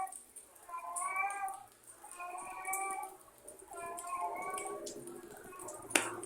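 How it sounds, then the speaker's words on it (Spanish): Cat meowing in a rainy setting, three drawn-out plaintive meows in a row, moderately close over soft background noise, with a sharp click near the end. "Está raro ese gato porque siempre maulla."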